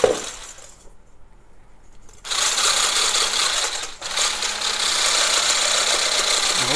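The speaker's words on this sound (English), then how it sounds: "But you have to keep whipping and whipping and whipping." Electric mixer whipping meringue as sugar is gradually added, a loud steady motor whir that starts after two seconds of quieter background, briefly dips near four seconds, then runs on continuously.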